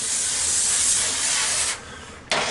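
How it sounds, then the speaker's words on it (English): Cooking spray hissing onto a pan, a loud steady spray for nearly two seconds, a short pause, then another brief burst, close and with no talk. "I'm going to spray my pan so we don't have problems later"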